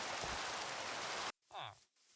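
Steady hiss of rain falling in old Minecraft fills the first second or so, then cuts off abruptly, followed by a brief voice.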